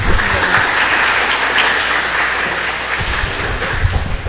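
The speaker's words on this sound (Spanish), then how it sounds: "Den un fuerte aplauso." Crowd applause from an audience at a medical talk on knee osteoarthritis, steady dense clapping sustained throughout with no voices over it.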